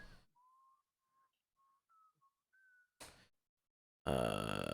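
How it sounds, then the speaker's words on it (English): A Nightcaller whistle sounds in a tabletop fantasy game session as a short series of thin, wavering whistled tones, each brief, followed by a loud blaring burst at the end. "It is the Nightcaller whistle."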